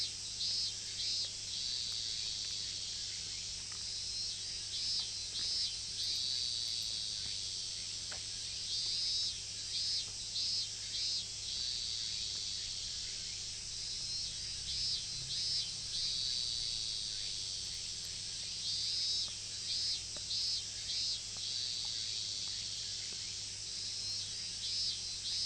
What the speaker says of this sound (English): There is a chorus of cicadas.